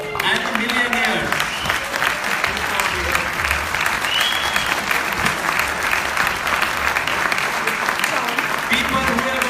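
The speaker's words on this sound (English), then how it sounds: "we can have a round of applause, please" A crowd at a training workshop in Lisbon applauds, dense continuous clapping filling the room at full volume for the whole stretch, with voices mixed faintly under the applause.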